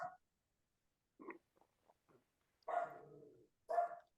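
A house dog barks furiously at a home delivery, a few sharp, fairly close barks with short yips between them, separated by pauses.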